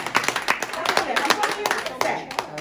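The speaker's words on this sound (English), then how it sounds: "let's clap for that" A small group claps briefly, a quick patter of hand claps at close range with voices mixed in.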